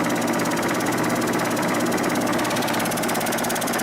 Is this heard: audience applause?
no